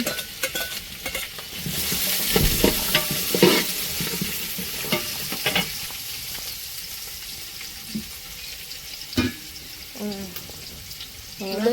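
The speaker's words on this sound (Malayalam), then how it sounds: "എണ്ണ ചൂടായി അതിലേക്ക് നമുക്ക് സവാളി ചെറിയ ഉള്ളി രണ്ടും കൂടി മിക്സ് ചെയ്തിട്ടാണ് കേട്ടോ ഇടണത്" Sliced onions and shallots go into hot oil on a stove for beef fry, giving a steady sizzle with scraping stirs and clatter of utensils, while a voice talks over the cooking at times.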